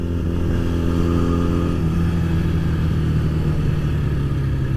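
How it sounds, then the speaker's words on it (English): Honda CB125 motorcycle with a red frame, black tank and aftermarket exhaust cans, its small engine running loud and close, pitch dropping slightly partway through then holding a steady buzzing idle-like drone. "Sounds like a little pit bike with these cans on it."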